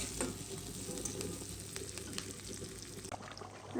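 Fried onion being stirred into beef kala bhuna in a pan, a continuous gentle sizzle broken by scraping spoon strokes and small clinks, close and moderately quiet.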